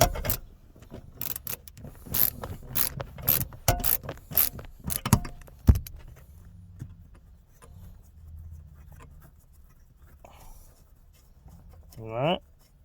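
A seat bolt being tightened on a 1997 Dodge Ram pickup: a quick run of sharp ratchet clicks for several seconds, up close, then a quieter stretch with faint handling noise.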